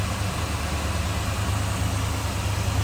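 A 1988 Chevrolet Monte Carlo SS idles smoothly with a low, steady rumble and faint background hiss, heard up close with no voices.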